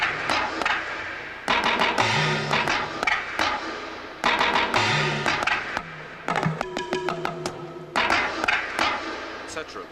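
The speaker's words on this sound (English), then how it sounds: "I've got a bamboo hat, talking drum, a timbale, and then various other drums up here, which are all going to sound together" Electronic drum kit pads voiced as bamboo hat, talking drum and timbale struck together in repeating bursts of sharp hits, with pitched tones and quick rolls between short pauses, close and fairly loud.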